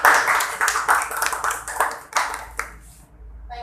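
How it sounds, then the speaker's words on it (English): A small audience claps to welcome guest speaker Fatima at a live English talk event, a short burst of fairly close claps that thins out and fades within a few seconds. "So I welcome her with a huge round of applause"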